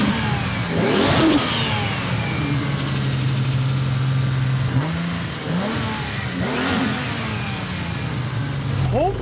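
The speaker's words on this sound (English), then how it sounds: "That's the 1200 wheel horsepower engine built by Titan." A powerful turbocharged 1200-wheel-horsepower Toyota Supra MK4 engine revs hard in repeated bursts, with whooshing pitch sweeps over a steady low idle, loud and close.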